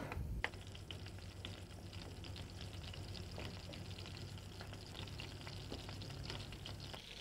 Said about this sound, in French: comme l'huile commence à être bien chaude, bien saisie, je vais mettre mon filet de bœuf à colorer